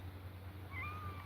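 A kitten gives a single faint, rising meow partway through, set against a steady low indoor hum with no talking.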